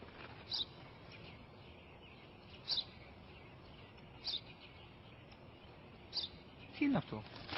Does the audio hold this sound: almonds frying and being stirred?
no